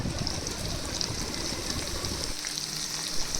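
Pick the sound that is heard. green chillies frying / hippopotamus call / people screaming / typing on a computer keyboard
green chillies frying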